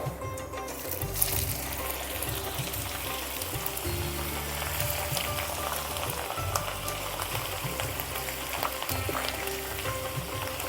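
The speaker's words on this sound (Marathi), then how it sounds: "हा आपल्याला गोल्डन ब्राऊन फ्राय करायचा आहे" Sun-dried onions fry toward golden brown in hot oil for chicken dum biryani, producing a dense, constant crackling sizzle that stays loud and close throughout.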